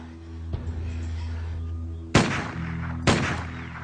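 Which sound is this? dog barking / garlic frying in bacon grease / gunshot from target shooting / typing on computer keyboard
gunshot from target shooting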